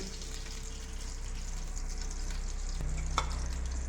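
A small onion frying in homemade desi ghee makes a steady, close sizzle, with a faint clink near the end.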